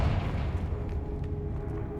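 A Confringo fire spell blasts in Hogwarts Legacy, heard as a dense, rumbling low boom that rolls on steadily for the whole stretch without a sharp single crack.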